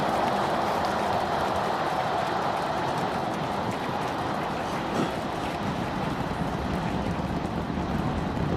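SpaceX Starship Super Heavy booster with all 33 engines running during ascent, a steady broad roaring rumble heard from a distance, even and unbroken throughout with no speech.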